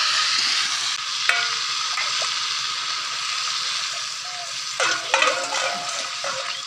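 Chopped vegetables and green chillies fry in a pan with a steady sizzle, while a spoon stirs and scrapes against the metal in several clustered strokes, loudest near the end.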